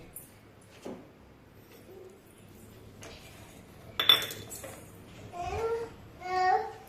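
Metal spoon handled in a home kitchen, a few light clinks and taps scattered under quiet room noise, with a voice babbling and adults talking nearby.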